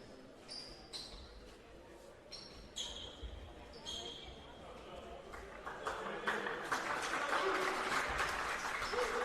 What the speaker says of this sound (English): Nice round of applause for our young court sweeper.